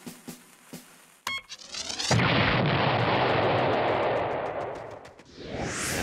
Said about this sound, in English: Chili had a little bomb whose button made it go.